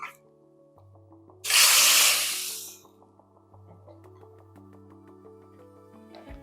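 Hot tempering poured into a mashed tomato and brinjal curry erupts in a sudden loud sizzle and hiss that fades over about a second, set against soft background music.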